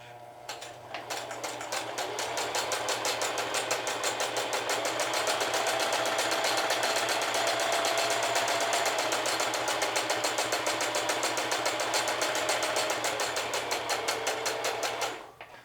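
A sewing machine stitching a belt loop runs in one continuous fast rhythmic whir of rapid needle strokes, close and steady for about thirteen seconds before stopping.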